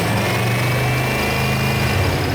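A supercharged Corvette V8 with a ProCharger idles close by in a loud, steady, even rumble that holds without change from start to finish.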